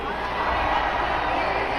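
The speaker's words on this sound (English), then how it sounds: "Listen to that crowd pop, man." A crowd roars and cheers in a packed venue, a dense, steady wall of noise that holds at the same level for the whole two seconds, with scattered voices inside it.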